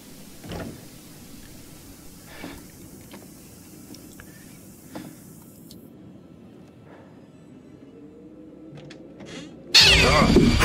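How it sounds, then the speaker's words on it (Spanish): In the horror video game The Dark Pictures: The Devil in Me, a cat lets out a sudden loud meow and yowl at the end, after a stretch of quiet ambience with faint creaks and footsteps. "Sí, solo era un gato."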